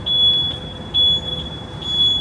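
High-pitched electronic beeps repeat at a steady pace over low background rumble, a truck's reversing alarm sounding nearby on 7th Avenue, New York City.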